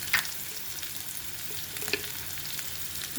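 Onions sizzle in hot oil with salt and turmeric stirred in, a steady close crackle with a few sharper pops and light scraping of the spoon.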